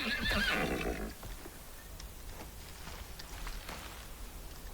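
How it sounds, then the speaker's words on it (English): An angry horse in the video game Icarus gives a loud, harsh whinny during the first second, then falls away to a steady wash of rain-like ambience with faint thuds. "I'll just take out this angry deer or this angry horse"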